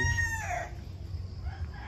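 A rooster's crow trails off at the start, then soft clucking from backyard hens, including a Hatch hen, and background farmyard noise continue at lower volume.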